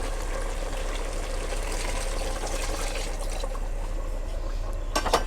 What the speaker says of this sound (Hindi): अब हम इसमें जो हमने गोश्त बॉयल किया था, जो यखनी निकली थी, वो इसमें हम ऐड करेंगे।